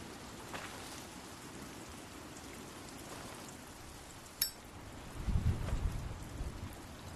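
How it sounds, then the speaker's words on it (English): Steady, dense rainfall hisses throughout in the video game The Walking Dead Season 2, with a sharp click partway through and a low rumble rising near the end. "It's raining so much."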